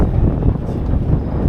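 Wind buffets the microphone aboard a barge backing away from a pump-out and gas dock, a steady loud rumbling roar with no talking.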